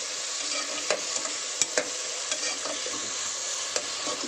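Tomatoes with rock salt sauté in a pan, a steady close sizzle and frying hiss broken by a few soft stirring taps, with no talking.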